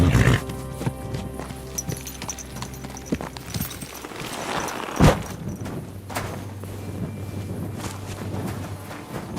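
In the video game Kingdom Come: Deliverance II, a horse's hooves clip-clop in a slow, uneven rhythm through a city over a low droning background, with a sharper knock partway through.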